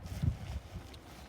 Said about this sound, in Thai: ลมมันแรง มันก็ไม่ได้แรงมากหรอกมันอยู่ช่วงปลายฤดูหนาว